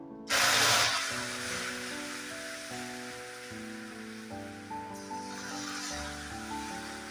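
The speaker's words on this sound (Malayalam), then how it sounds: "പഞ്ചസാര നല്ലപോലെ കാരമൽ കളറായി കഴിയുമ്പോൾ തിളപ്പിച്ച് വെച്ചിരിക്കുന്ന വെള്ളമാണ് ചേർക്കേണ്ടത്." Boiled water poured into hot caramelized sugar bursts into a loud, close hiss and sputter, then fades to a steadier bubbling sizzle under soft background music.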